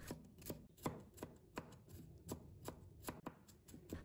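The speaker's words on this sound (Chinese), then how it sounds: "然后再改刀剁成蒜末。" A knife minces garlic on a board with quick, close, crisp taps in a fairly steady rhythm, a dozen or so strokes with no voices.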